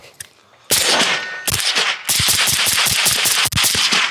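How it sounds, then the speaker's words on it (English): A PSA Mixtape rifle fired downrange, with a single early shot followed by loud rapid bursts of sharp reports separated by brief pauses, close and with no talking. "send a few rounds down range"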